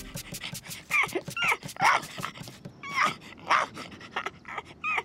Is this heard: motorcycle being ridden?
no